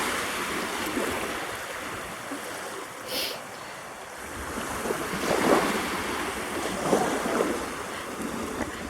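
Surf washing steadily onto a Sea of Japan beach, broad continuous wash with a few louder breaking surges and light wind rumble, no talking.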